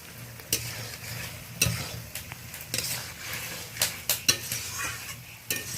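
Fried pointed gourd and potato pieces being stir-fried again with spices in a pan, with a soft steady sizzle beneath repeated sharp scrapes and clinks of a metal spatula against the pan.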